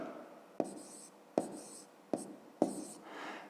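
Four short scratchy pen strokes sound close and fairly soft as a math equation is written out by hand, each stroke starting with a sharp tick.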